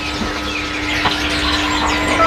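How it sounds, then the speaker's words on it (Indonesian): Chirping calls of a male pied bushchat in a bird shop, fairly close, with a steady hum and some background noise. "Ini berikut ada burung decu jantan mas ya."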